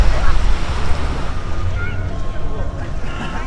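Black Sea waves wash steadily onto a beach at Yalta while wind buffets the microphone, with faint voices somewhere in the background.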